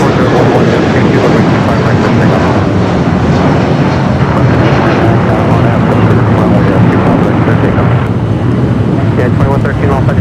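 A United Boeing 757 jet airliner arrives at LAX from Dallas, a very loud, close, buffeting engine roar that is sustained throughout, with a talking voice faintly mixed in.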